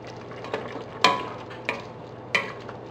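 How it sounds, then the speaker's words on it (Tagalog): Beef pares with brown sugar being stirred in a pot, a few sharp scraping clinks of a utensil over a soft background simmer, close and spaced irregularly. "Then haluin lang natin."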